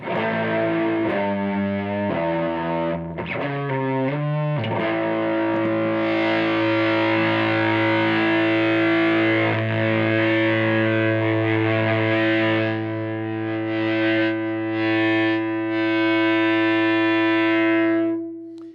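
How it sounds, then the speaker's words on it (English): Heavily distorted electric guitar, pedal set to gain all the way down on its dirtiest wave setting, plays a few choppy notes, then rings out in long, loud, gritty chords that sustain to the end. "here's what it sounds like with the gain all the way down and on the dirtiest wave setting"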